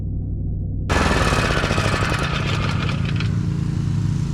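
A push lawn mower that is blowing a lot of smoke starts up suddenly and then runs loudly and steadily near the microphone, its engine rattling and droning without a break.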